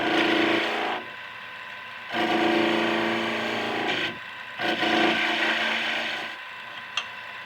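Skew chisel cutting into wood on a lathe, sending off shavings: loud, close raspy scraping in three long passes, each a couple of seconds, separated by brief quieter gaps of spinning stock.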